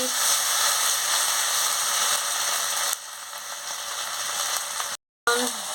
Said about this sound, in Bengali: বাটা শুকনো লঙ্কার বাটা সব দিয়ে দিচ্ছি রসুন বাটা দিয়ে ভালো করে মশলাটাকে ভেজে নিচ্ছি